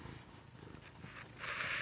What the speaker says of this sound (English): this is my cat. His name is Paz, and he's purring.